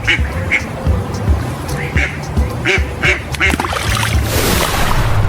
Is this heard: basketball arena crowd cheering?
no